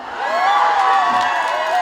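A concert crowd at a grape festival cheers and shouts loudly for a singer, a dense sustained wall of voices with high whoops rising over it for a couple of seconds.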